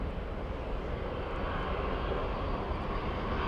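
A Boeing Dreamliner airliner at Los Angeles airport gives a steady, broad jet roar that holds at an even level throughout, with no voices over it.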